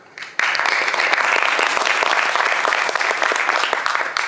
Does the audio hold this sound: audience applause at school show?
yes